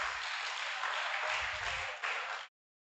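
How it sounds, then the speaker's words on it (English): Dense, even applause from a conference audience after a traditional East Javanese dance performance, holding steady for a couple of seconds before cutting off abruptly. "please give applause for Jantung Theater"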